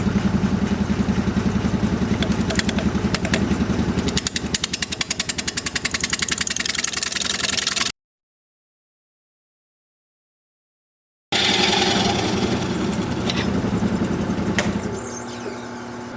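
Wood lathe spinning a natural edge bowl at 650 RPM, a steady loud mechanical drone with rattling clatter that cuts out for a few seconds, then resumes and eases slightly at the end.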